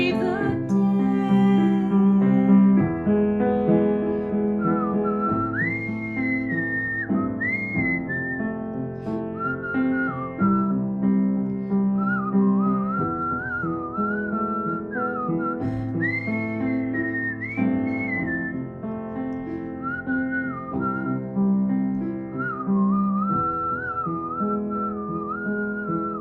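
A person whistles a song melody, a clear sustained tune with sliding notes over accompanying instrumental music, steady and prominent throughout.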